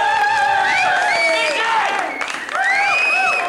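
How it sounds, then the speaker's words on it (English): A radio-show studio audience applauding for a guest named Linda, giving loud, sustained clapping mixed with cheering and whoops that runs throughout without a break. "A little round of applause, I think, for Linda."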